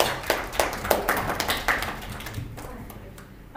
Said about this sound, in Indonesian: Tepuk tangan buat Glenn.